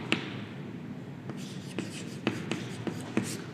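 Marker or chalk strokes on a board during a lecture, short scratchy strokes coming in irregular bursts after a quiet start, fairly faint and close.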